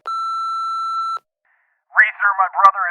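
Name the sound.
voicemail beep tone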